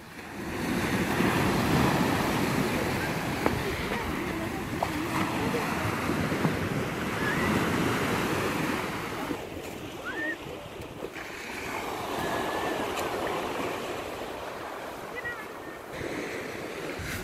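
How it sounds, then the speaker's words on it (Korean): Steady rush of sea waves washing ashore at Muchangpo Beach, South Korea, broad and continuous, with wind buffeting the microphone and gentle swells rising and falling throughout. "바닷소리 리얼 사운드"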